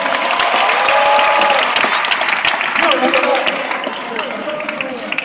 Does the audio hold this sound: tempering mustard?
no